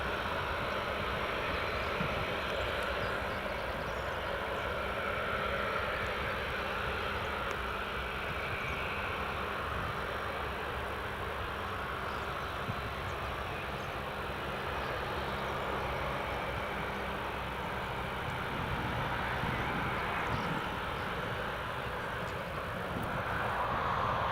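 A Jet2 Boeing 737-800 NG jet roars steadily near Newcastle Airport, a broad continuous engine rumble that stays loud and constant throughout with no talking.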